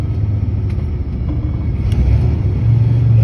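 Lorry on a UK road, heard from inside the cab as a loud, steady low engine and road rumble that swells slightly toward the end.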